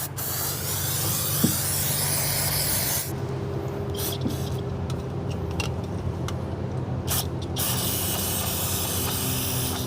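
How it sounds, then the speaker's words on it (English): Brake cleaner sprays in a steady, loud hiss over a Rochester Monojet carburetor from a 1971 Chevrolet C10 inline six, with one short break partway through before it resumes. "Carburetor meet O'Reilly brake cleaner."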